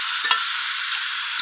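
Meat being stirred and fried in a pot at a riverside picnic, a steady close sizzle with a few faint stirring knocks.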